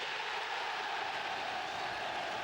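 Travelling Middlesbrough football fans cheer a goal late in a 1992-93 match away at Aston Villa, a distant, steady wash of crowd noise and applause without clear peaks.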